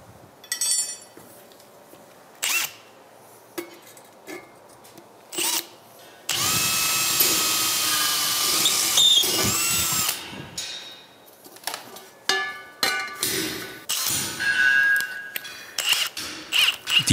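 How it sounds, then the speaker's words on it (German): A power drill boring rivet holes for the handle of a forged iron pan, with a long loud whining drill run amid short bursts, clinks of metal and workshop handling noise. "Dann kommt die Bohrmaschine zum Einsatz."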